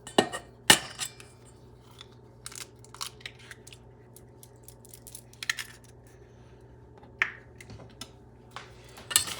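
Buttermilk and egg are mixed in a bowl with a utensil, giving sparse, faint clinks and taps against the dish at irregular intervals, with a few sharper knocks over a quiet background and no talking.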